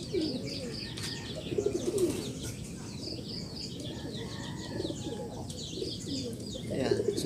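Pigeons coo repeatedly in a loft, low throaty calls rising and falling over steady ambient noise, with a few faint chirps and brief wing movement in the background.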